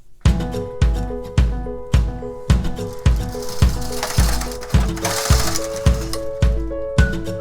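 A knitting machine carriage casts on 26 stitches of chunky yarn: a steady run of about a dozen loud, evenly spaced mechanical clacks, each with a brief metallic ring, alone and close.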